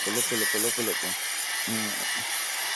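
An angle grinder cutting granite during stone modelling work gives a steady, loud, high-pitched whine throughout, while a person talks in short bursts over it.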